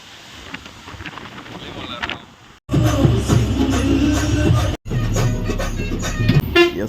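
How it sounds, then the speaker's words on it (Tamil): Strong wind roars and buffets loudly around a tour bus on the road from Sendamangalam up to the Kolli Hills, a heavy rumbling gust broken by two abrupt cutoffs, with faint voices murmuring underneath. "சரியான காற்று"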